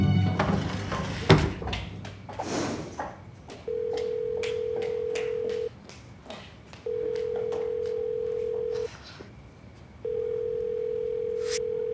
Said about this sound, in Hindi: उठा लो फोन